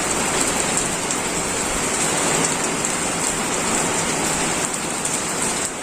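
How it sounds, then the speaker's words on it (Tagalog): Heavy typhoon rain falls without pause, a loud dense hiss of drops on surfaces that holds steady throughout with no voices over it. "Pa din ang ulan."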